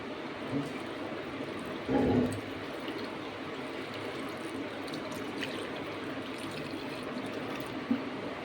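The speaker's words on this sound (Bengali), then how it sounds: "আর দেব হচ্ছে জল" Water is poured into a cooking dish as a steady, soft rushing stream with a brief louder splash early on, fairly close and without talk.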